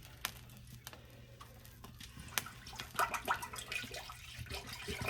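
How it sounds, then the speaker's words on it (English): Liquid from a 64-ounce jug pours into a big soup pot for jambalaya or gumbo, starting with light clicks and splashes before a fuller, gurgling pour takes over midway. "I'm going to go ahead and pour this in."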